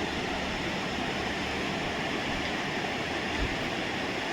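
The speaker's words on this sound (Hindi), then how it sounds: "नीचे देखिए नदी बहता पानी" River water flowing below a mountainside in Narayan Bagar, Chamoli, Uttarakhand, a constant broadband rushing roar, loud and unbroken, with no voices over it.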